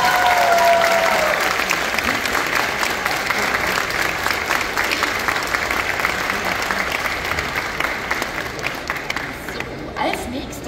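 Steady, dense audience applause at an outdoor waterfront cosplay contest in Bremen, clapping continuously for about ten seconds and slowly tapering, with a brief voice at the start.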